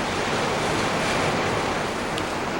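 Water of the Nile river rushing past a drifting boat, a loud continuous broadband wash with no pauses, steady and close throughout.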